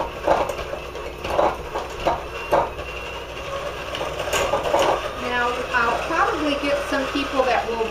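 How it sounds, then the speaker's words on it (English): Electric hand mixer creaming shortening on medium speed, giving a steady mechanical whir with rhythmic clatter of beaters against the bowl, loud and close throughout. "And I'll turn my hand mixer on, and we'll do that real quickly on medium speed"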